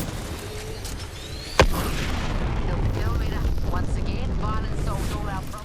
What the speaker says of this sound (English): Really into the sci-fi type sounds. Like this ultimate.